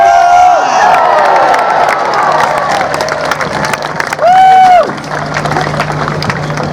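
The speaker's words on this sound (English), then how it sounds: "Let's have your cheers!" At a medieval festival, a large outdoor crowd cheers and whoops loudly, with shouts and a rising wave of voices. Tonal whistle-like calls sound early on and again near the end, and the noise thins out afterwards.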